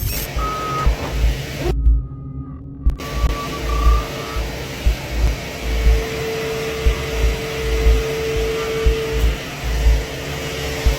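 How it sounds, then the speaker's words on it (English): A vacuum cleaner drones steadily and loudly nearby, with rhythmic surging bumps as it is pushed back and forth, and a brief dropout partway through. "whilst using her vacuum cleaner in her home."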